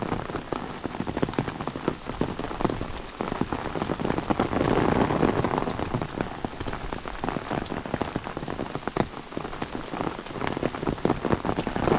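Steady rain pours down on the Appalachian Trail, a dense, continuous hiss of drops striking leaves and ground, loud and close with no voices.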